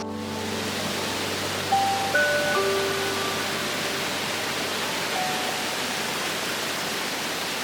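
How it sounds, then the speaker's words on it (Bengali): Steady rushing of a stream flowing out beneath a bridge near a waterfall in Meghalaya, a dense continuous broadband wash with no voices, constant and fairly close. "এই ব্রিজটাকে ক্রস করে জলটা বেরিয়ে যাচ্ছে এই সাইডটা দিয়ে"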